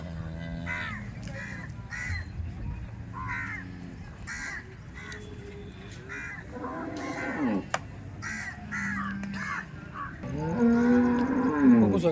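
A crossbred dairy cow at a farm moos repeatedly in drawn-out calls, mixed with crow caws and other farm birds, moderately near with a louder bellow at the end.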